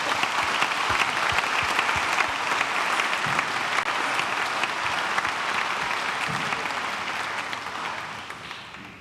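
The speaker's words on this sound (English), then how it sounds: "Let's give them a round of applause again." A church congregation applauds a brass band, sustained, dense clapping from many hands that fills the room and slowly fades toward the end.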